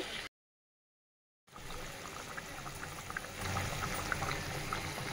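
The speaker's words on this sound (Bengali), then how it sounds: "এই যে আমার চিকেনটা খুব সুন্দরভাবে ফুটছে" Chicken curry boils on high flame in a covered pot, a steady bubbling hiss with soft pops. It follows a short silent gap and keeps a constant, moderate level throughout.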